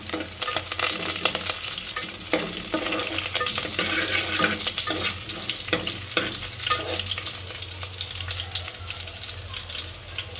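Spices with dried chillies and curry leaves crackle and sizzle loudly in hot oil, tempering for kadhi, dense popping and spitting with stirring scrapes, close and continuous.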